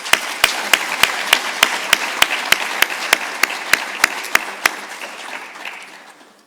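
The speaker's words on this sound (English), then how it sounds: "Please join me in giving them a round of applause." Applause for organizing teams at the closing plenary of the G-STIC conference: a room's worth of clapping, fairly loud and steady at first, then thinning and fading out toward the end.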